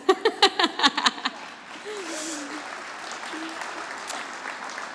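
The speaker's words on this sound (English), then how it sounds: "Thank you, Audrey, for clapping for that." A few loud, distinct claps ring out in a quick burst, then trail into a low murmur of an audience at a city's state-of-the-city address.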